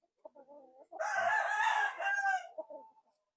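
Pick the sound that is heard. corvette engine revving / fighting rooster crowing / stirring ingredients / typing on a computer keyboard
fighting rooster crowing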